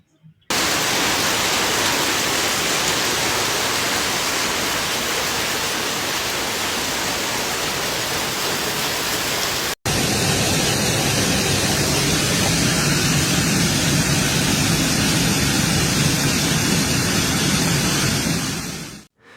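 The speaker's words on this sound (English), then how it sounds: "The storm brought heavy rain and marble-sized hail" Heavy rain mixed with marble-sized hail pours down in Eberndorf, Austria, a dense, loud, unbroken roar of hiss and patter that fills the whole time, with a brief break partway through and no voices.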